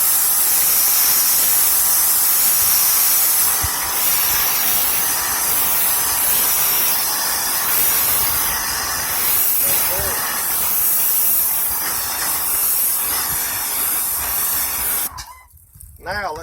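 A Greenworks Pro 2200 PSI pressure washer sprays water in a steady, loud hissing rush that runs without a break and cuts off abruptly near the end.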